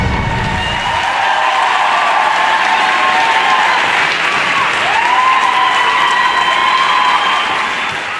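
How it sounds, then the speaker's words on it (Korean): Arena crowd applauding figure skater Kim Yuna after her Les Misérables program, a loud, sustained wash of clapping with scattered cheers and whistles, steady throughout. "훨씬 더 멋진 모습으로 돌아온 그녀에게 관중들은 끝없이 박수를 보냅니다"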